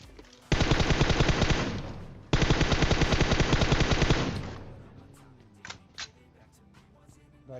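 Rapid automatic gunfire in the mobile game PUBG Mobile comes in two long, loud, close bursts, followed by a few scattered single shots and quieter game sounds.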